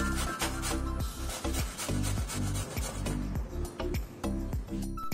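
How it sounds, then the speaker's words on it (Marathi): Beetroot is rubbed against the smallest holes of a fine kitchen grater in quick, rhythmic rasping strokes, close and fairly loud, with brief pauses between passes. "तो सगळ्यात छोटे होल असलेल्या किसणीने आपल्याला किसून घ्यायचा आहे"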